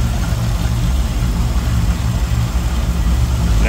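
A 1961 Chevrolet Bel Air engine with a four-barrel carburetor idles steadily with a deep, even rumble, close by and fairly loud throughout.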